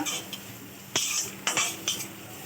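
A spoon scrapes and clinks against a pan while coriander is stirred into hot oil, a few distinct metallic strikes over a faint sizzle.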